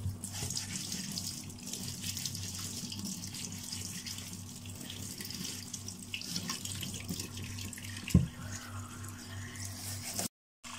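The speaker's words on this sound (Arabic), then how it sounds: "اهي غسلنا كده البطاطس اهي زي الفل." Potatoes rinsed under a steadily running kitchen tap, a continuous close splash and trickle of water into a sink, with one sharper knock near the end before the flow cuts off.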